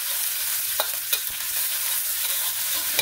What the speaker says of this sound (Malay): Okay, kita tumis sampai dia naik bau.